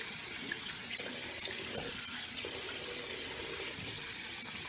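Tap water running steadily into a sink for a hot rinse after shaving, a constant, moderately quiet hiss and splash with no voices.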